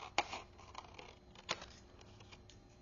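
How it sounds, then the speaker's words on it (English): Quiet scissors snip through paper or cardstock while a card folio is cut out by hand at a craft table; two sharp close cuts stand out among softer rustles and small clicks, with no talking. "Use my scissors here."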